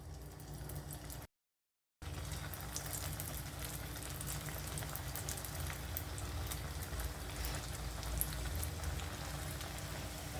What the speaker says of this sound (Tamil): இப்போ இதை எண்ணெயில் போட்டு பொரிச்சிக்கலாம்.